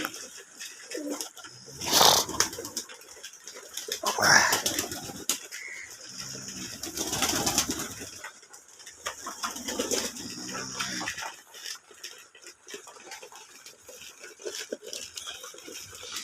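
Domestic pigeons coo softly in an outdoor setting, low murmuring calls repeating under a steady background hiss, with a couple of louder rustling bursts.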